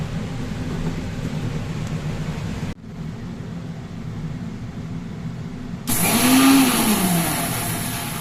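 An electric grinder coarse-grinds whole spices with a loud, continuous motor whir. The whir dips briefly, then jumps to a harsher, louder pitch near the end.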